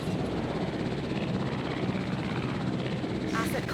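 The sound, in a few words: transport helicopter in video game Jurassic World Evolution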